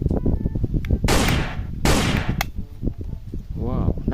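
A blue toy shotgun firing, two or three sharp loud bursts of noisy blasts with a descending electronic effect, while a voice talks and exclaims around the shots.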